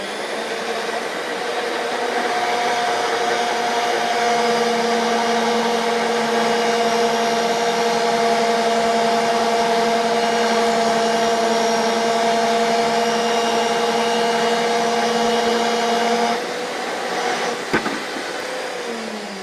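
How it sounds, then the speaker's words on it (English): A RIDGID 535M threading machine runs steadily for about sixteen seconds with a loud, even motor hum and whine while its cutter works through a pipe, then cuts off with a brief clunk near the end. "I'm going to turn this half turn at a time until it cuts through the pipe."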